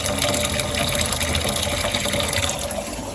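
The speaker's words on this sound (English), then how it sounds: "Gets to those and then it releases all the water and stops all by itself" Water rushes steadily and loudly as an aquaponics siphon drains, a continuous splashing gurgle that stays close and even throughout.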